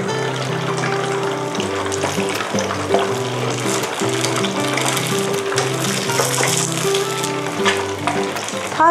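Snakehead fish frying in hot oil, a loud, dense and continuous sizzle and crackle close by, with steady bubbling throughout and no talking.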